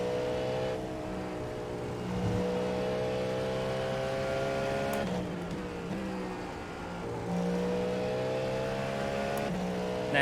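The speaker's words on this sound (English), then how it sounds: "That is by far the best sounding car on iRacing." Steady high-pitched Cadillac LMDH race car engine drone in the iRacing sim, with rising and falling pitch through gear shifts, loud and continuous with no talking.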